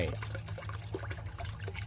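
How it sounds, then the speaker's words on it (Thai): Water trickles and pours from a 12 V DC solar-powered water pump, a weak flow with a steady splashing dribble heard up close for a couple of seconds. "แต่อันเนี้ยตัวใหญ่แต่น้ำไหลแค่เนี้ย ไม่แรงเลย"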